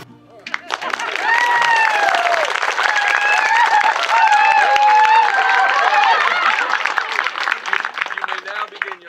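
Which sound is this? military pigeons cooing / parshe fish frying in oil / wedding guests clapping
wedding guests clapping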